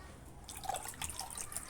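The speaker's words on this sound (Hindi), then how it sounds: "लास्ट में जाएगा ठंडा पानी।" Cold water trickles and splashes in small irregular drips and pours into a pani phulki mixture, close by and fairly quiet, with no talking.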